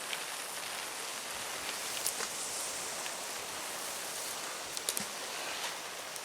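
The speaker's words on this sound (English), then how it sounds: "here comes the rain again" Steady rain falls outdoors at a fishing lake, a dense even hiss of drops on leaves and surfaces with a few louder close patters, no voices.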